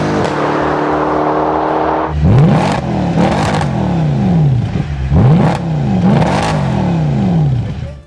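A 2010–2011 Mercedes-Benz E63 from the E-Class line idles with a rumble, then gets several sharp throttle blips that rise and fall in quick succession, loud and close, with no talking.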